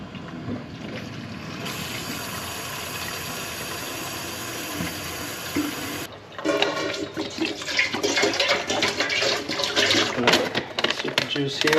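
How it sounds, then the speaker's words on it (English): Warm water runs into a jug for mixing a lawn treatment. After steady background noise, a loud, turbulent gush of filling water starts partway through and continues to the end. "get the jug, fill it up with some warm water"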